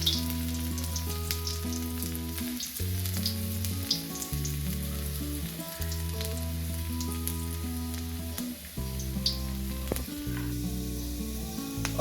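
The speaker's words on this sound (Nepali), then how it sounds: "अब यसपछि म यसमा अदुवालाई स्लाइसले काटेको चाहिँ एउटा हाल्दैछु।" Sliced ginger and cumin seeds sizzling in hot oil for chicken fried rice: a loud, constant close sizzle with light stirring, while a tonal music bed plays underneath.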